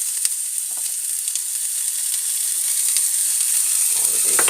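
Spices crackling and sizzling in hot oil for a green mango sweet-and-sour sauce, a steady bright frying hiss with small scattered pops, close and alone.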